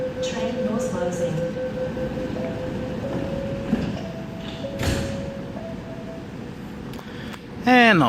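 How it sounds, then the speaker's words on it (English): Metro train doors closing at a platform with platform screen doors on a Chatswood service, with steady warning tones over a low train hum, a brief clunk midway and a rising electronic chime near the end. "Train doors closing."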